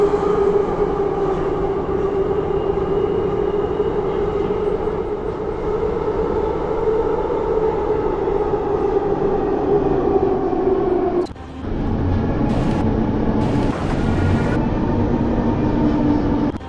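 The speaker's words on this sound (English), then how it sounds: "This is an Expo Line train to Waterfront." A 1995 Bombardier Mark 1 SkyTrain car on Vancouver's Expo Line heading to Waterfront, giving a steady loud electric whine and rumble from inside the train, with a brief clattering jolt and shift in tone near the end.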